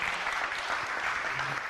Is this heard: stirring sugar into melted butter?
no